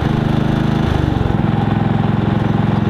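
A Harbor Freight 3500 generator converted to propane, running in eco mode. Its loud, close engine drone shifts pitch and drops in speed early on, then settles into a steady, lower hum.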